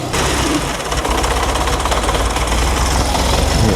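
Classic Volkswagen Scirocco engine idling at about 850 rpm with an air leak and the timing belt cover missing, a steady close-up mechanical clatter and rumble with no talking.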